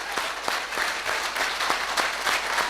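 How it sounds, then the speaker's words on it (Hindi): Audience applause at an RCM business seminar in a hall, a steady dense burst of many hands clapping with no voices over it. "एक बार जिंदा जैसे लोगों की ताली बजा दो।"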